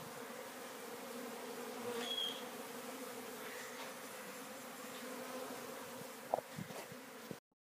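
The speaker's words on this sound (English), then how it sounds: "Bees all over the place." Honey bees swarm under a travel trailer during a removal in Raymondville, Texas, making a faint, steady buzzing hum that goes on throughout with a few closer passes, then cuts off abruptly.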